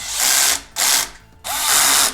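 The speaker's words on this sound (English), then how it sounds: "So I have my little power drill here." A low-torque power drill drives bolts while a OneLap G801 smart spin bike is assembled, whirring loudly and close in three bursts with short pauses between them, the last burst the longest.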